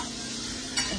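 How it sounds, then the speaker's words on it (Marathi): Mandeli fish fry in a pan, giving a soft, continuous sizzle with a brief stirring scrape near the end, quiet and close, with no voices. "ही बघा अशी अशी परतायला भेटते, म्हणजे ती मस्त पैकी फ्राय झाली."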